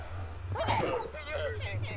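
A dog yelps and whimpers in a video game after being hit, a few short high cries rising over a low steady game hum, with a person talking excitedly over it.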